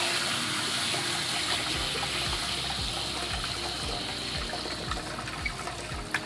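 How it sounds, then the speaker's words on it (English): Water gushes steadily into a container for a plant bio-stimulant mix, a continuous close splashing pour with faint rhythmic low thumps underneath. "Put a little bit of water in here."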